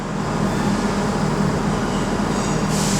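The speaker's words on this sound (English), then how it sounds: "3233's just caught me off guard as he departs of a service bound for Birmingham International" A train pulls out of Birmingham New Street station on the West Coast Main Line, bound for Birmingham International, giving a loud, steady rumble of wheels and carriages that fills the whole stretch without pause.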